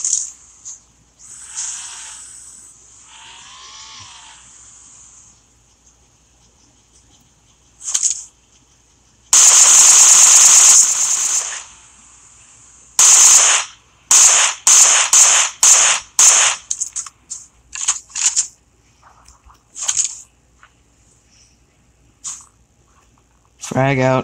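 Gunfire from a multiplayer shooter game comes in bursts: a long, loud sustained volley followed by a string of sharp, rapid shots, with quieter stretches between.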